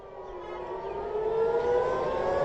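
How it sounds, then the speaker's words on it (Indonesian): A civil defense siren wails steadily in the distance over Tel Aviv, its tone slowly rising and growing louder over a faint background hum. "sirine di kota Tel Aviv kembali berbunyi"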